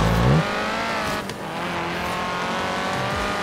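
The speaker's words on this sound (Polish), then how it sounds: "Zobaczcie, jak ładnie driftuje." Cadillac Escalade drifting in Forza Horizon 3, a steady loud engine drone with tire squeal, a brief dip in the middle and a rising rev near the start.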